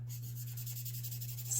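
The chisel nib of an alcohol marker rubbing across paper as it lays down ink, producing a soft, rhythmic scratchy stroking over a low steady hum.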